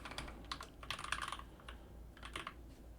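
Close, quiet clicking of keys in quick irregular bursts as an email address is entered on a computer keyboard, with short pauses between runs.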